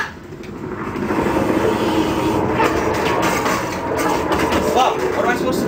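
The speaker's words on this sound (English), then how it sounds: "there was a train behind me" A train rumbles past in the video game Mirror's Edge, a continuous loud rolling roar with faint rail clatter, overlaid by a man's speech.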